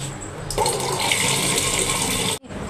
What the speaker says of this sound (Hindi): सुबह सुबह छत पर चिड़िया आती पंछी आते हैं पानी पीने के लिए तो पहले मैं उनको पानी डाल देती हूँ चिड़ियों के लिए